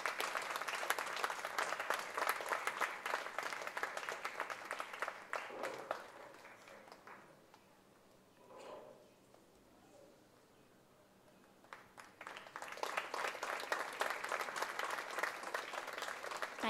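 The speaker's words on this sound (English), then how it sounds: "Can we all give him a huge round of applause?" A crowd claps in sustained applause, fades to near silence for a few seconds, then breaks into another long round of clapping.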